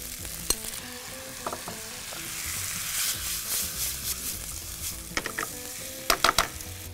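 Beef chow fun noodles with sauce stir-frying in a wok: a soft, close sizzle under sharp clacks and scrapes of a spatula that come in short bursts, no talking.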